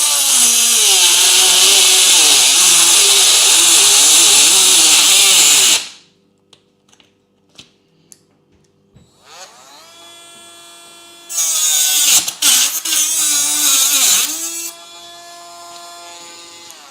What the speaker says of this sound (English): Right, that's it cut through. My Dremel lasted